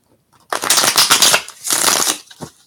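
Crisp riffling bursts of a deck of cards being shuffled, two main flurries with a brief pause between, close and fairly loud.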